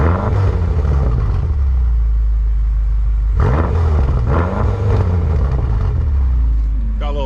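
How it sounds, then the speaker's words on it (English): Stock exhaust of a BMW F12 M6, rated 550 horsepower, rumbling loudly from up close with a steady low drone and a couple of sharper revving swells midway, while people talk over it. "All right, guys, we're gonna hear the stock exhaust."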